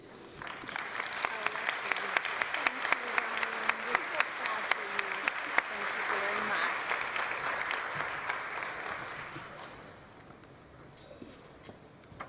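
An audience applauds at a hospice volunteer awards ceremony, with a sustained wash of clapping that swells and then gradually fades out, some murmuring voices mixed beneath it.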